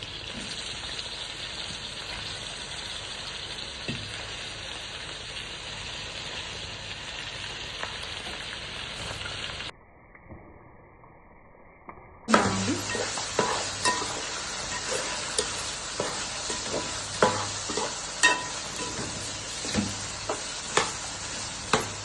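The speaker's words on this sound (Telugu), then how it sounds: "కొంచెం ఫ్రై కానిద్దామండి." Chicken pieces frying in masala for fry piece biryani, a loud steady sizzle that breaks off briefly to a quieter hiss, then resumes with stirring clatters and bursts of crackling.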